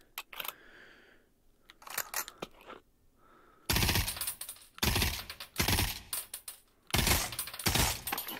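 Rapid automatic fire from a new weapon in the VR shooter Pavlov, with a few quieter clicks and handling sounds first, then loud fast bursts in several clusters.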